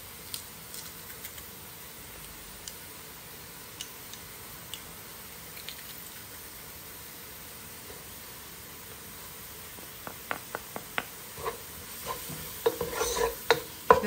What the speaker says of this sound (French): finement l'oignon et le poivron rouge, je fais saisir avec de l'huile d'olive